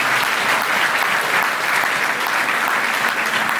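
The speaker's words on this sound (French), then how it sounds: "Donc on peut encore s'applaudir s'il vous plaît" Sustained audience applause fills a New Year wishes ceremony for 2025, a dense, steady clatter of many hands clapping close by without a break.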